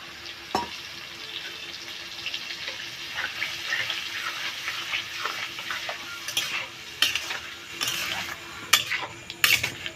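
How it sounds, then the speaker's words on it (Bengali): A spice paste of green chili, ginger, turmeric and cumin sautés in a pan with a soft, continuous sizzle and frequent light scraping of a spoon, the stirring growing sharper and more clattery toward the end. "মশলাটাকে ভালো করে কষাবো"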